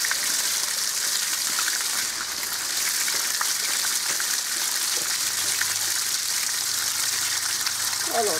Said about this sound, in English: I put a ring around the peripheral ring around the turbine, and that contains the water a bit more.